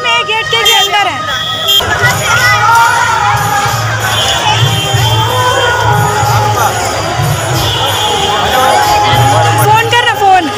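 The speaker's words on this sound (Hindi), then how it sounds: "मेन गेट एंट्री देखो कितना भीड़ है" Dense, loud crowd packed at a main gate entrance for a meet-up on a full ground, with shouting, cheering and children's voices in a constant roar, plus a voice talking close by.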